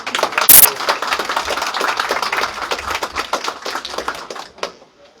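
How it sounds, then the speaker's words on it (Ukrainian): Audience applause after a speech at the opening of a new rehabilitation centre building in Lviv: dense, steady clapping from a crowd, starting with a sharp burst and fading out near the end. "Оплески, друзі"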